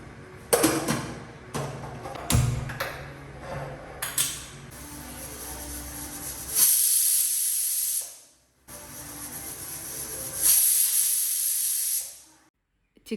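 A pressure cooker full of chicken lets off steam in long loud hissing bursts, interrupted by clinks and knocks, with short quiet gaps between the sprays.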